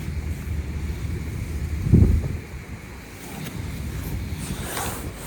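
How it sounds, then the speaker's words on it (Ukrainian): Wind blows steadily against the microphone while fishing outdoors, with a low rumbling gust swelling near the start, then a constant breezy hiss. "Конечно вітер тут задуває"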